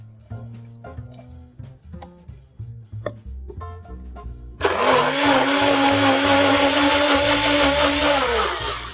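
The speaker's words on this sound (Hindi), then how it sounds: "अब बचे हुए नारियल को एक और बार पानी के साथ मिक्सी में हम घुमाएंगे।" Light tapping and clinking sounds give way to a mixer grinder starting abruptly, blending leftover coconut with water, running loud and steady until the end.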